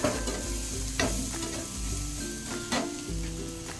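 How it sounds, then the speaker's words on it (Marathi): Onion and tomato masala sizzles and crackles in a hot pan while a spoon stirs and scrapes through it several times, close and clear, with no talking. "मिक्स करून देऊ चांगलं फ्राय करून देऊ टोमॅटो कांदा व्यवस्थित मसाला"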